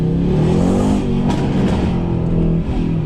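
A straight-piped, catless Mercedes-AMG C63 S with catless downpipes, tuned, accelerates hard in a continuous loud, deep V8 roar that holds steady under load from inside the car.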